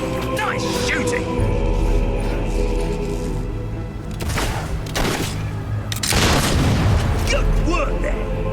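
Gunfire and booming blasts in the video game Fable III, a dense, continuous battle din with heavier bursts around the middle and end, while game voices talk over it.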